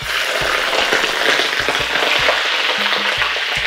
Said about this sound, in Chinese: 我们这个时候就可以把排骨倒进去了